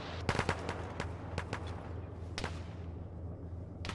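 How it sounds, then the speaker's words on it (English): Gunfire cracks down a road in a military video game, a cluster of sharp, moderately distant shots early on, then scattered single reports with pauses between. "Tango is shooting down the road"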